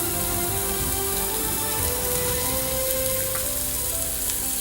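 Butter chicken gravy with onions, cashews, kasuri methi and honey frying in a pan on a cookery show, a dense, continuous close sizzle like rain on a surface, with no voices.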